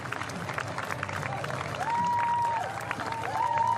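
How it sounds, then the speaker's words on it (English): Crowd applause and cheering at the finish of a men's H5 para-cycling road race as a French rider crosses the line in second place, a steady roar with a whistle-like tone rising through it. "takes the applause of the crowd"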